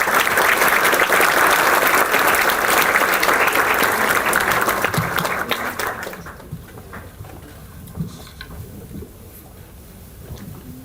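An audience at a constitutional law event claps loudly and densely to welcome a speaker. The applause holds strong for several seconds, then thins out and fades into scattered claps and room noise.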